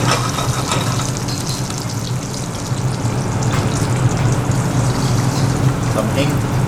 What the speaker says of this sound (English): extracting flavor from mustard seeds, cumin seeds in hot oil